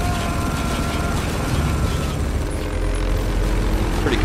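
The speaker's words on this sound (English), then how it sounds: "Pretty cool start so far, shooting some helicopters." Helicopters come under gunfire in the war shooter Spec Ops: The Line, a dense, steady roar of rotor and engine noise mixed with battle rumble, loud and continuous throughout with no break.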